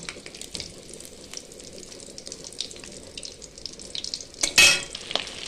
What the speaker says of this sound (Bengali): দেখো মাছের ডিমটা আমি ভাজছি